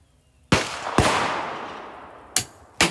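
SK Rifle Match ammunition fired from a B14R rifle: four sharp, loud shots in two quick pairs, each report trailing off in a long, fading echo.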